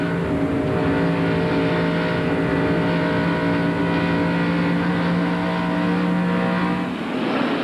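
A NASCAR Busch Series stock car engine at Darlington, heard from the in-car camera, drones loudly and steadily at high revs throughout, with no talk over it.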